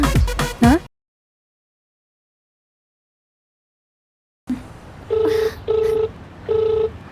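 Telephone keypad tones sound as a phone is dialed to call a mother. A short burst of tones comes first, then a silent gap, then three clear, separate beeps with faint background noise.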